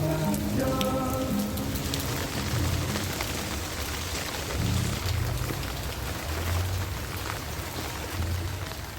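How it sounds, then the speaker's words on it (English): Monsoon rain pours steadily onto surfaces, a dense continuous hiss and patter with close droplet splashes, alone with no talking. "there is something so soothing about watching the pitter patter of the rain"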